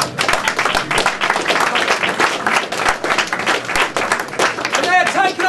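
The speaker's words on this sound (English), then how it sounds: "Give them a round of applause, people." A press conference audience at a UCMMA 27 mixed martial arts event applauds Team Razor, dense steady clapping from a crowd filling the room with continuous loud rattling, a few faint voices and whistles rising near the end.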